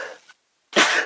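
One short, sharp sneeze bursts out loudly after a brief silence, following a trailing bit of breathy sound in a quiet podcast studio.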